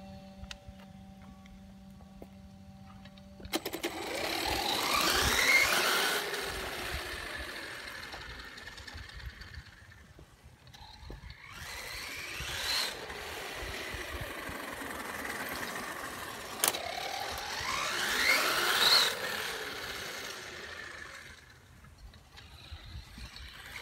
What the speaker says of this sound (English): Redcat Blackout XTE Pro. Do a quick 3S run.